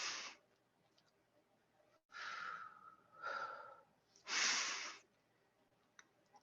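Slow, deep breaths from a guided breathing exercise, close and soft: an exhale, then a longer inhale and exhale, and a final strong breath out, alone with no talking.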